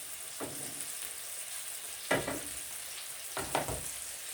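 Salmon fillets pan-frying in a hot skillet, a steady sizzling hiss with a few louder bursts of crackle and spatter, close and alone with no talking.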